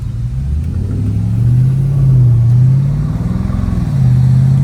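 BMW M550i fitted with a cold air intake accelerating, a loud steady low engine drone that rises and swells in pitch over several seconds, close by with no talk.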